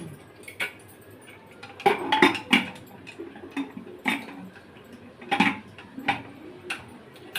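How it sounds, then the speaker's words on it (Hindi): A metal lid set onto a cooking pot of potato and cauliflower in a home kitchen, giving several close clinks and knocks of metal on metal spread over a few seconds, with no talk. "अब इनको ढक्कन लगा के कर देते हैं बंद।"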